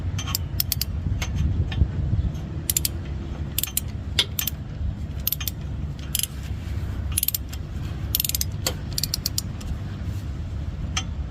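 A ratchet is worked slowly on header bolts of a BA Falcon XR8, giving sparse, irregular metallic clicks and ticks over a low, steady background hum, close by with no talking.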